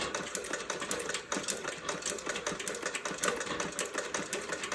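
A Singer 29-4 boot patcher sewing machine runs steadily, stitching with a fast, even mechanical clatter that stays close and fairly loud for the whole stretch.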